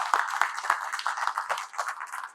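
An audience claps at a lecture in an uneven, loosely rhythmic run of close, crisp claps that keeps going for a couple of seconds.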